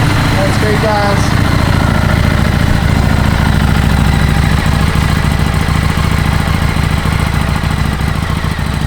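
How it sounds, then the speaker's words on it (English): A 2015 Harley Davidson Street 750 motorcycle engine runs at an even, throbbing idle, loud and close, steady for the whole stretch with someone talking over it. "2015 Harley Davidson Street 750. It's a great running bike, guys."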